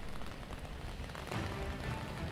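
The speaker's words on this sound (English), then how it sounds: "right now it is still raining" Steady rain falls and patters on surfaces outdoors on a wet weather-alert morning, a dense even hiss that swells slightly louder partway through, with no voices.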